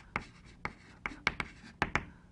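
Chalk on a blackboard during an MIT linear algebra lecture: seven sharp taps and short strokes in quick uneven bursts, close and distinct in a quiet room.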